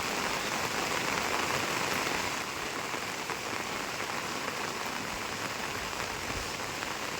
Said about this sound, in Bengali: ভালোই বৃষ্টি হচ্ছে।